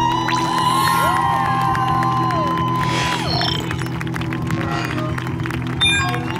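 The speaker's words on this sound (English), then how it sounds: "Is it wrong that I want to give some of this applause to Haas?" A crowd at a StarCraft 2 esports event at DreamHack Summer 2020 cheers, whoops and applauds, with a swell of noise that fades into a steady hubbub. Game sound effects and talk run underneath.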